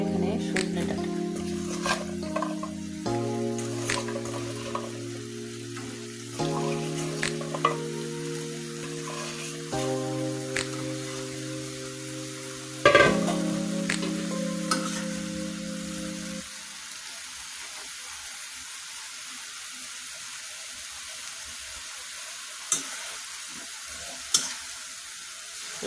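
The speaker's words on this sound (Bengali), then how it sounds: "মশলাগুলো দিয়ে আর ডাউল দিয়ে ভালোভাবে কষিয়ে নিচ্ছি।" Moringa drumsticks with lentils and spices sautéing in a pan. Tonal music plays over the first part, then a soft, steady sizzle with light stirring carries on alone.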